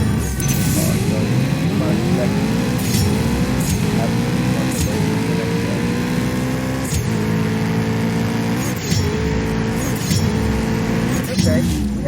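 Racing car engine in a CSR2 drag race, loud and continuous with repeated rising revs and sharp gear-shift breaks throughout.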